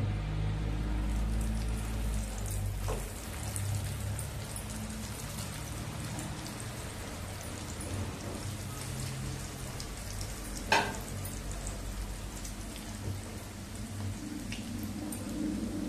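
Cabbage vadi fritters deep-fry in hot oil with a continuous soft bubbling hiss over a low hum, plus a few brief clinks and one sharp tap midway.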